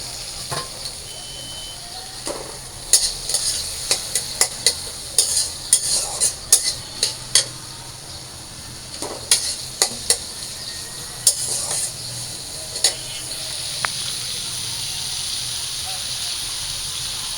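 Prawns fry with onion in a pan with a steady hiss, while a metal utensil scrapes and clacks against the pan in repeated bursts of stirring.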